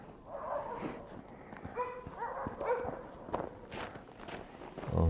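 Dogs play in a sculpture park, with scattered footsteps on the ground, light panting, brief whimpers and yips, and a sudden thump near the end, heard fairly close with no talk.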